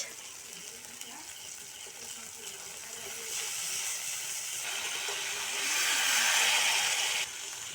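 Pieces of river fish dropped into hot oil with cooked-down spices, a soft hissing sizzle that swells louder midway and then eases, heard close with no talking.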